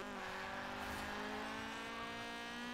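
A front-wheel-drive car in Forza Horizon 4 holds a steady engine drone with a sustained harmonic whine, faint and continuous, with a slight rise partway through.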